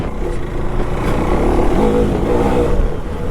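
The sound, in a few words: 390cc adventure motorcycle engine revving in second gear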